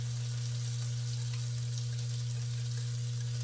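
Seasoned meat sizzles and fries steadily in a hot pan, a constant crackling hiss under a low steady hum, with no talking.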